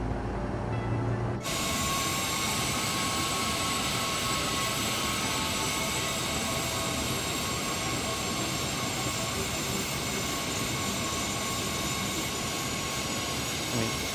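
A Cessna Citation Sovereign business jet taxiing in Microsoft Flight Simulator 2024 gives a steady, loud engine whine and broadband rumble with sustained high tonal lines, running continuously after a short quieter start.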